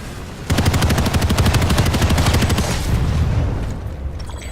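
Machine gun fire in the video game Planetside 2, a loud, rapid, evenly pulsing automatic burst lasting about three seconds before tapering off.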